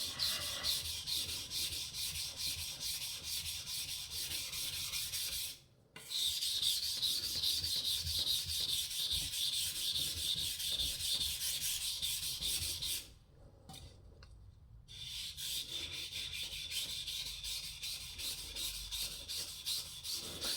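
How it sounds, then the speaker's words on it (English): Steady rasping strokes of a knife blade worked across an Australian natural whetstone, a medium polishing stone, continuous and close with two brief pauses, no talking. "because this knife was sharpened at such an acute angle, actually, this is sharpening it as well"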